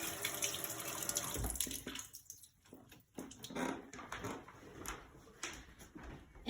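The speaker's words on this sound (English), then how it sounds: "take your strainer and the cans and rinse them out" Tap water runs into a strainer of canned beans as they are rinsed at a kitchen sink, a steady splashing wash that briefly thins out midway, then resumes with irregular spattering, close and fairly quiet.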